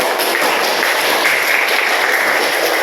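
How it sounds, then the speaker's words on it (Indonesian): Classroom applause from students clapping for a group in an Islamic religious education lesson, a steady dense patter of many hands, loud and close, lasting throughout. "Tepuk tangan dulu untuk kelompok"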